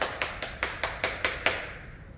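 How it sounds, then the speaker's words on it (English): On a video call, one person gives seven evenly spaced hand claps to welcome a new member. The claps are faint and thin, then stop, leaving quiet. "Let's give her a round of applause to welcome her"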